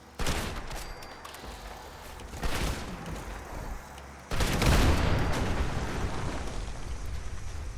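Gauss shotgun blasts in Fallout 76: three loud, booming discharges spaced a couple of seconds apart, each followed by a rumbling tail, the last one heaviest and lingering under game ambience.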